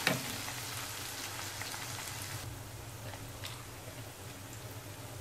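Red chili and turmeric sizzle softly in hot oil for masoor dal, a faint, steady frying crackle like light rain that sharpens with a brief pop at the start.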